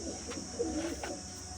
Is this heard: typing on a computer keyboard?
no